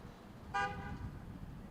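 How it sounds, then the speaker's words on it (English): A single short car horn toot sounds at a disc golf tournament, a brief bright blast from a distance over quiet outdoor background noise. "Just a nice, beautiful horn honk"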